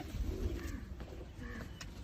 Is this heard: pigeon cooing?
yes